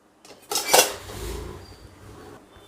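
A plate is set down inside a preheated kadai with a single clattering metallic clank, followed by a short fading ring and low rumble, close by and alone.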